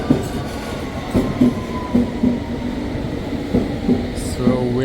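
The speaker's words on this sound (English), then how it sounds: "Here we go, that's our train." A London Underground Hammersmith line train arrives at East Ham station with a loud, close rumble, rhythmic wheel clacks over rail joints and a brief metallic squeal, while a voice speaks faintly beneath it.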